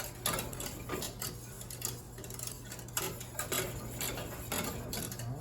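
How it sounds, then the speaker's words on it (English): Milk being whisked into a sauce for moussaka, a steady fast ticking of a whisk against the pot that runs continuously and close, fairly quiet, with no talking. "I'm going to keep whisking."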